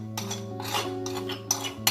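Spices are mixed in a bowl to make a coating for onion rings, with a utensil scraping and clinking against the bowl in quick, repeated strokes, close and clear.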